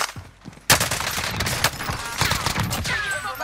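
Gunfire in the video game Call of Duty Warzone, a sudden burst of rapid shots followed by continuing crackling fire and echoing reports, loud and close, with dense overlapping volleys.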